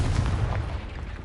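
The Confringo explosion spell goes off in Hogwarts Legacy as a deep, rumbling blast that stays heavy for about a second before slowly thinning out.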